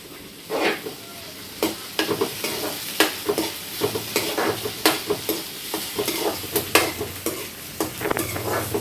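Tomato frying with onion and chilli in a pan for a dhaba-style chicken kosha, a constant soft sizzle under frequent sharp scraping strokes as a spoon stirs against the metal, with no talk.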